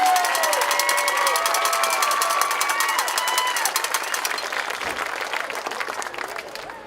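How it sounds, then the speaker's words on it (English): Crowd at a high school football game applauding and cheering the 1995 state champion Blue Devils, loud dense clapping with shouts and whistles that gradually fades near the end. "Could you please have one more round of applause for the 1995 state champion Blue Devils?"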